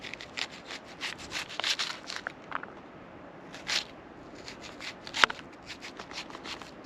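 Knife cutting minced onion on a cutting board, a steady run of soft, close rasping chops and scrapes with a sharper knock near the end, fairly quiet and with no talk.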